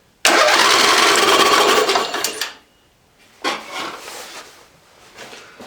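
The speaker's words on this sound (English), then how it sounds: "we're going to just give the motor a quick turnover to see, make sure everything's working as it should" Briggs and Stratton lawn mower engine, stripped down for a top-end rebuild, turned over in a quick mechanical whirring burst of about two seconds, followed by a shorter, fainter second turn.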